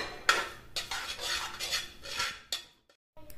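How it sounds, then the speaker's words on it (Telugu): Sesame seeds and dried coconut fry over a low flame in a pan for dry fruit laddu. A utensil scrapes and clatters against the pan in repeated stirring strokes, close and fairly loud, with a brief pause near the end. "తర్వాత మనం దీనిలో నువ్వులు వేసుకోవాలి, నువ్వులు ఫ్రై చేసుకోవాలి."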